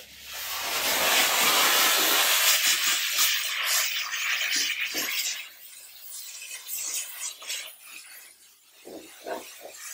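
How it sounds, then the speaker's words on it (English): A Chief Steamer 155 240-volt steam cleaner blasts steam into the cracks and crevices of a car, a loud broad hiss that swells at the start, then continues in sputtering, uneven bursts close to the microphone. "I'm using the steam to blow out the cracks and crevices."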